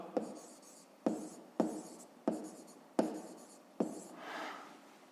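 A pen or pencil writes on paper during a maths exercise, six distinct strokes each starting with a sharp tap and trailing scratch, close and quiet, ending with a longer softer scribble.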